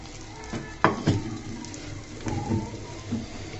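Oil is poured into a hot cooking pot that already held fried egg, giving crackling spatters and a few sharp bursts of sizzle that rise and fade over a low rumbling background.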